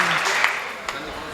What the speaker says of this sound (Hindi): आपने तालियां बजाई